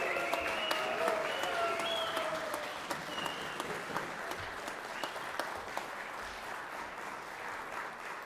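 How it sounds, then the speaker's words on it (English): Applause fills the Georgia Senate chamber, a broad crowd of hands clapping strongly at first and then thinning and fading toward the end, with occasional faint thumps. "Let's give him a round of applause."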